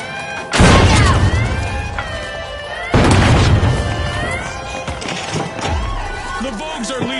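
Two booming frag grenade blasts in a video game, each a sudden loud burst with a rumbling tail, separated by a couple of seconds, with game voices and effects around them.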